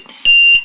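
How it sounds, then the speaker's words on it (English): A 555 timer circuit driving alternating LEDs gives one loud, steady electronic beep lasting about a third of a second, close and alone. "audible alert."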